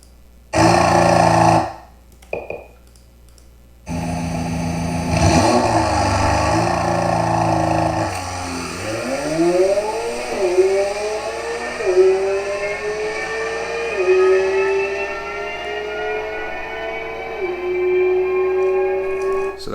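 A McLaren 720S on OEM tires launches on a quarter-mile run: after a loud revving burst and a roaring launch, the engine climbs in pitch through several quick gear shifts, holding a loud, continuous roar to the end.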